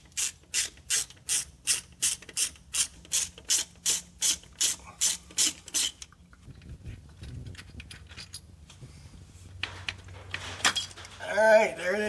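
Ratchet clicking in quick bursts while backing out Torx bolts on a 2000 Dodge Ram, about a dozen regular strokes up close, then quieter handling and shuffling of parts.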